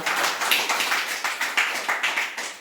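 A school audience at a Savitri festival in Beldarwadi, Sangli, claps to welcome women guests: a quick run of about a dozen evenly spaced, fairly close claps.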